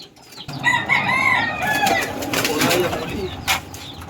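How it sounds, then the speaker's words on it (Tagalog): Homing pigeons being trained flutter and call close by, with bursts of wing flapping and a few bird calls mixed with light background voices. "Training muna tayo ng mga kalapatids."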